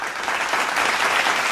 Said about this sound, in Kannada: ನಮ್ಮ ಮ್ಯೂಸಿಷಿಯನ್ಸಿಗೊಂದು ಜೋರಾದ ಚಪ್ಪಾಳೆ ಬರಲೇಬೇಕು